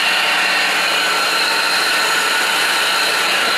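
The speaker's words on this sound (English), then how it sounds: "That sounds like a cooling fan making that weird noise" A van's engine cooling fan running in cold weather with an odd noise: a steady, loud, broadband whirring hiss with a faint tonal whine, continuous and unchanging throughout, with no voices.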